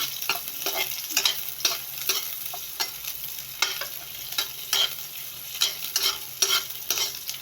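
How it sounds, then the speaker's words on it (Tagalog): Onions sauté in a pan for a Filipino ground beef and bottle gourd dish, a continuous close sizzle punctuated by a regular rhythm of spatula scrapes and stirs. "Lagay natin yung sibuyas."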